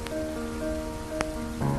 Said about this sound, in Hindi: बारिश अब थोड़ी धीमी हो चली थी।